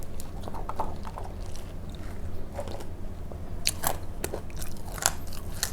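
Someone bites into crispy baked dried fruit, with a few sharp close crunches and chews rising over a low background hum; no talk.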